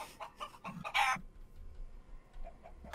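Minecraft chickens cluck in short, clipped bursts in a game, a few distinct calls in quick succession then quieter sparse game sounds, fairly faint overall.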